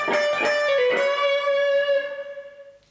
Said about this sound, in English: So once again, all the way through, the lick goes like this.